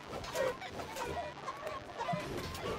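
Chickens in the battle game Totally Accurate Battle Simulator cluck in short, scattered calls over a low background rumble, fairly faint and distant.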